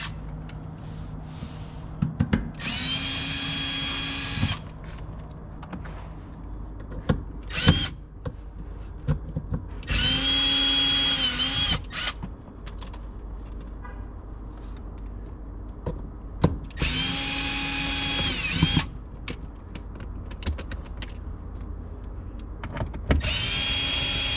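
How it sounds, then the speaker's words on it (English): A power drill backs security screws out of an under-seat lockable storage unit in a 2022-or-later Toyota Tundra CrewMax cab, whining in three bursts of a few seconds each, with quieter rattles and handling noises between them. "we've already got the security screws in here, and I'm just going to remove those"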